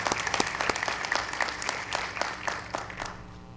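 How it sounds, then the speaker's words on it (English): Applause at a school board meeting for a senior's family, a smallish group clapping with distinct individual claps, tapering slightly toward the end, with a faint background hum. "A round of applause for them as well."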